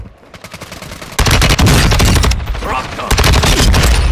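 Rapid automatic gunfire rattles in Call of Duty: Modern Warfare II Warzone 2, starting sparse then breaking into loud, sustained bursts with brief pauses, close-sounding, with a voice briefly speaking early on.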